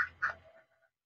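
Ducks on a duck farm, a couple of short nasal quacks in quick succession, close and clear, then fading into quiet.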